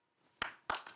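Hands clap three times in a quiet indoor family scene from a TV comedy, sharp and close with short gaps between claps and no talk over them.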